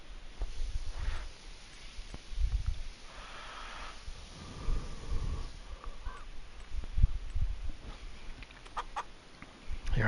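Chickens and a rooster from a flock of about twenty hens with one rooster, clucking in a farm game, Farming Simulator 25. Scattered low clucks and snorts come in bursts over steady ambient noise, moderately close, with no talk.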